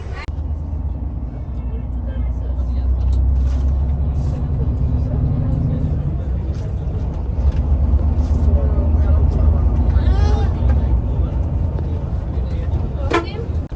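Imperial Express Hyundai luxury coach pulling away from a roadside counter at night, a steady low engine drone and road rumble building and holding loud throughout, with faint voices in the background.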